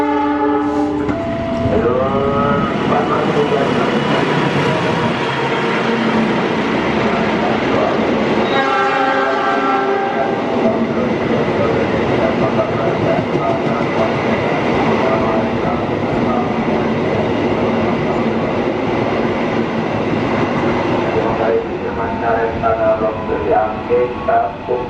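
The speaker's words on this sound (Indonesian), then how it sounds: "kereta api Parahyangan Sao 32B yang hari ini memakai kereta luxury generasi ketiga" A Parahyangan passenger train running with third-generation luxury cars rumbles loudly past at close range, wheels and carriages roaring steadily for the whole stretch, with horn blasts sounding near the start and again around the middle and end.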